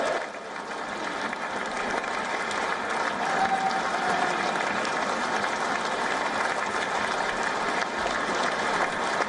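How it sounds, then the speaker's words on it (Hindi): A large crowd at a political leaders' meeting applauds continuously and loudly, a thick, even wash of clapping that holds steady throughout. "थोड़ा और जोर से तालियां भाई"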